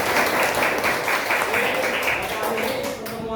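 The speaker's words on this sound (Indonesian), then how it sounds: "Aplaus sekali lagi buat kalian" Audience applause fills a classroom teaching session, a dense, steady wash of clapping that holds at an even level for the whole stretch, easing slightly near the end.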